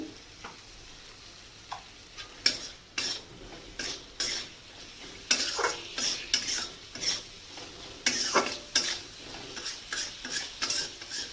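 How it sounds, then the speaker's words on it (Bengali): Spices sizzle with drumstick (moringa) pieces as they are sautéed in a pan for a tilapia fish curry, a low frying hiss under repeated clinks and scrapes of a spatula stirring the mixture, close and without talk. "ভালো করে ডাটার সঙ্গে মশলাটাকে কষাতে হবে।"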